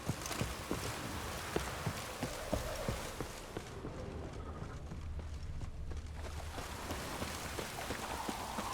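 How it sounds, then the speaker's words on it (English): Steady rain from the video game Witcher 3 patters on a surface at moderate distance, with scattered drip sounds and occasional clopping hoofbeats in the background. "Looks like rain."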